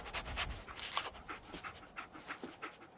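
Dogmeat the dog in the Fallout video game panting rapidly in quick, breathy bursts close by, with a few irregular louder huffs.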